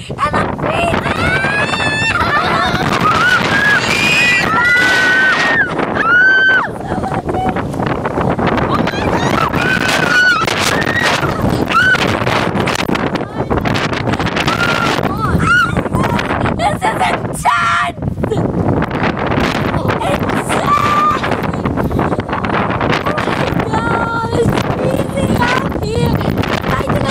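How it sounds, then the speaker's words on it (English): Strong, gusty wind buffets the microphone continuously, roaring and rumbling up close, while people talk and shout over it. "It's very windy. Very, very, very. Yeah, it's windy. It feels like a hurricane's coming."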